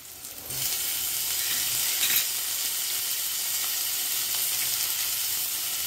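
Onion browning in a hot pan with tomato, ginger and green chili, giving a loud, steady sizzle and crackle that holds close and constant throughout, with no talk.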